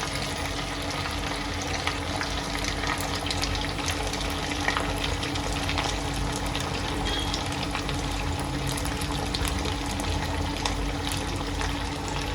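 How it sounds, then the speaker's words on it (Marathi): Semolina vadas fry three at a time in hot oil over a medium-high flame, giving a continuous quiet sizzle and bubbling hiss close by, with no voices over it. "तीन तीन करून मी तळून घेते"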